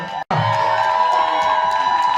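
Crowd at an African night event in Saint-Etienne cheering and applauding loudly and continuously, with whoops rising over the roar after a brief cut near the start.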